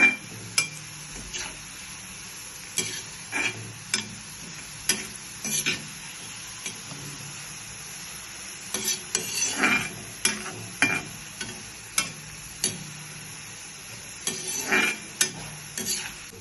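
Potatoes deep frying in a pan: a steady bubbling sizzle heard up close, broken every second or so by the scrape and clink of a utensil stirring them.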